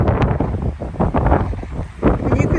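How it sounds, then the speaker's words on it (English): Breezy wind rushing through trees on a waterfront property, a steady broadband roar with gusty surges and some buffeting on the microphone throughout. "It's quite breezy today, but what a wonderful sound,"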